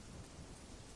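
Rain falls steadily in the background as a faint, dense hiss with soft low rumbling, continuous and even throughout.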